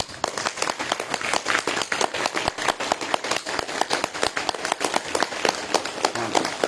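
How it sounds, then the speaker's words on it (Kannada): A group of people at a yoga session clap their hands in a steady run of sharp claps that repeats throughout, fairly close and lively. "ಈ ಎಲ್ಲರೂ ಚಪ್ಪಾಳೆ ತಟ್ರಿ"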